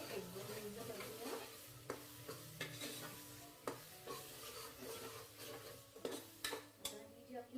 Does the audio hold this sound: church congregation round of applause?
no